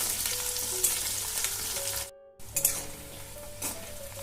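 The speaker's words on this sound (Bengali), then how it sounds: "পেঁয়াজ কুচিগুলো আমি খুব সুন্দর করে ভেজে নেব" Chopped onions fry in hot oil for a dal-free yogurt chicken dish, giving a steady close sizzle with a few stirring scrapes and a brief gap of near-silence midway.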